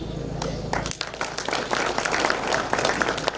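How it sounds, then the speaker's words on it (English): Audience applause at a Youth Day agribusiness event for the International Day of Potato, a broad wash of clapping that swells after a low hum drops away, with voices mixed in underneath. "let's give a better round of applause to Henry."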